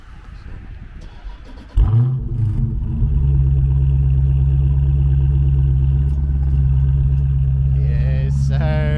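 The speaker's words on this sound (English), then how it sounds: "Here's that cold start." Cold start of a Scat Pack 392 engine: after a quiet lead-in it cranks and catches with a loud flare, then settles into a steady, deep, loud idle, with a voice at the end.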